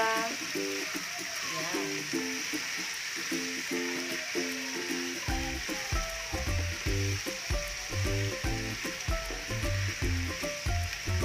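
Squid simmering in coconut milk (ginataang pusit) is stirred in a pan, giving a bubbling sizzle beneath steady background music, and a voice speaks briefly.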